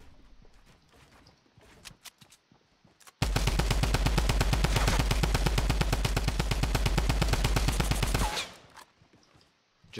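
A Tommy gun in Fortnite fires one long, loud, rapid burst of several seconds, each shot distinct in a fast, steady rhythm, then stops abruptly before quieter game sounds return.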